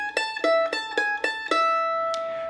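Solo mandolin playing the opening bar of Devil's Dream, the same four plucked notes fretted with third and second fingers and an open string repeated twice, crisp and close, ending on a sustained note.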